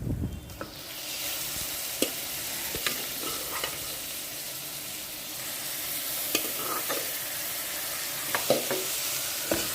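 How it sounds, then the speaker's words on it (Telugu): Washed mutton dropped into a hot pan of oil with mint for mutton curry, an initial loud hiss settling into a steady close sizzle punctuated by scattered spatula scrapes. "ఇప్పుడు కడిగి పెట్టుకున్న మటన్ని కూడా వేస్తున్నాను"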